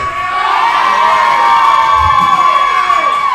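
A crowd at a live wrestling show cheers and whoops loudly and steadily, with shouts and high voices rising through a sustained roar from start to finish.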